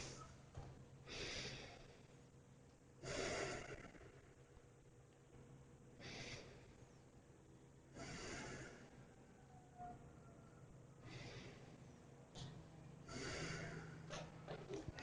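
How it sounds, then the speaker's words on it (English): Slow, deep yoga breaths drawn in and let out in a steady rhythm, each long airy exhale swelling and fading over a faint continuous background hum. "And a few nice deep breaths."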